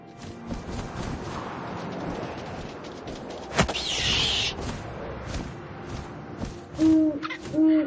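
An owl hoots twice near the end inside the game What Remains of Edith Finch, close and fairly loud over a steady bed of ambient wind and rustling.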